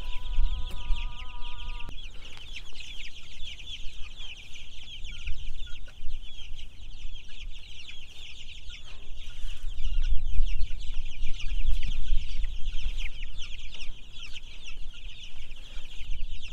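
One-week-old broiler chicks chirp constantly in a brooder pen, a dense high-pitched chorus of overlapping peeps running without pause at close range, with low clucking tones and a soft rumble underneath.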